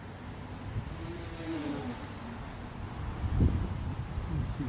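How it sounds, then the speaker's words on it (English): A JJPRO X2 RC car motor running at full throttle outdoors in a park, a thin whining buzz rising and falling at a distance under steady wind noise, swelling louder toward the end. "This is full throttle here."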